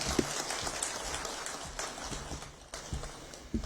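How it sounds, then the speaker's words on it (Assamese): Audience applause at an ND24 sixth-anniversary gathering: dense, continuous clapping from a crowd, steady and moderately loud, with occasional louder claps standing out. "খুব জোৰদাৰ এটা হাত চাপৰি"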